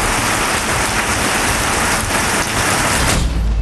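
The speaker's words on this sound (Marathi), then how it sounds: "अवकाळी पावसानं हजेरी लावली" Unseasonal rain falls in the Jat and Walwa talukas of Sangli district as a loud, continuous hiss of a heavy downpour. It carries on steadily and drops away abruptly at the very end.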